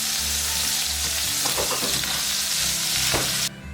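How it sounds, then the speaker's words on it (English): Chicken and vegetables frying in a hot wok for homemade orange chicken, a steady close sizzle with scraping stir strokes and clatter throughout, cutting off abruptly near the end. "we're just going to basically heat everything through that's in the wok right now"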